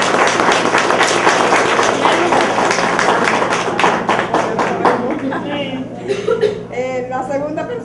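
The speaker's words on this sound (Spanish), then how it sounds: "Un aplauso para ella." Loud applause from a group at a pastry class graduation fills the first several seconds, then fades as voices and scattered talk take over.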